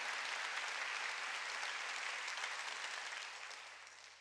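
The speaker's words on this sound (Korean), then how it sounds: "깨달은 사람만 박수" A church congregation applauds during a Sunday worship service, a thick, even burst of many hands clapping that fills the hall and begins to taper off near the end, with no voices over it.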